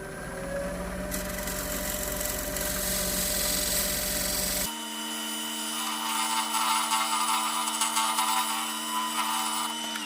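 A wood gouge working olive wood on a lathe gives a steady, close whirring scrape with a harsh rasping edge, shifting in tone midway as the cut changes, with no voices.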